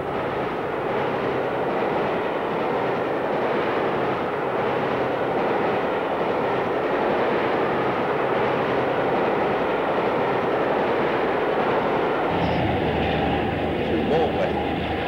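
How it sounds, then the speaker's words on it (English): A Western class diesel locomotive, D1026, hauls a westbound Motorail train near Dawlish, giving a continuous loud engine drone and rolling rumble that shifts in tone near the end. "D1026, a westbound motor rail train"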